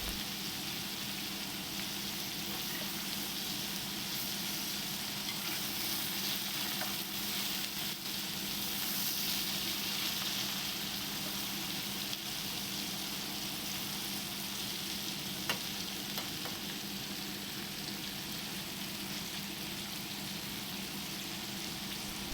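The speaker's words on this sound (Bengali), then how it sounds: "আবার 4 থেকে 5 মিনিটের জন্য আবার এইভাবে আমি ফ্রাই করে নেবো মিডিয়াম হিটেতে" Bitter gourd frying in a pan over medium heat, a constant even sizzle with a soft hiss, close and steady for over twenty seconds, with no voices.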